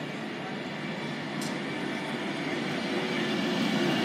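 A train pulls out of Warrington Bank Quay station, giving a steady, loud broadband rumble that swells slightly as it departs. One brief higher squeal rises above the roar partway through.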